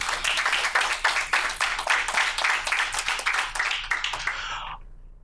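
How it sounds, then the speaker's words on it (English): Applause from a crowd at a school board meeting, a steady wash of many hands clapping throughout before trailing off abruptly near the end. "So one round of applause for them also"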